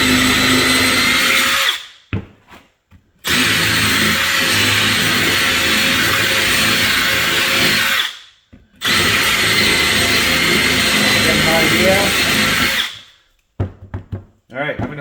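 A power drill bores into a wooden bowl in three loud sustained bursts of whirring, each broken by short pauses.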